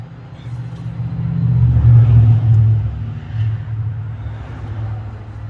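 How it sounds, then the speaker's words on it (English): A 1970 Ford F-600 truck's 330ci V8 being cranked, a low rhythmic churning that swells for a couple of seconds, eases off, then pulses again, loud and close with no speech. "May have to rotate the engine just a tad."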